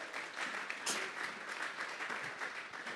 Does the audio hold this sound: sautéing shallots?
no